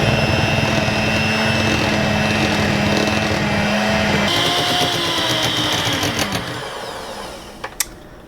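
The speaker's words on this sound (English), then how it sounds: "then we're going to blend it thoroughly for just about a minute" Countertop blender whirring steadily as it mixes a marshmallow fruit dip, a loud continuous motor drone that shifts pitch midway and winds down near the end, with no talking.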